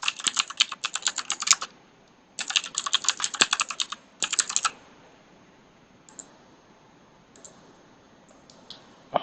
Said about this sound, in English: right after that, you can start typing the arguments.